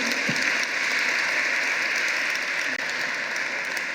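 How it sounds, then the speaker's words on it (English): Ceremony audience giving a steady round of applause, a dense wash of clapping that holds evenly throughout, fairly close and unbroken. "let's give them another round of applause"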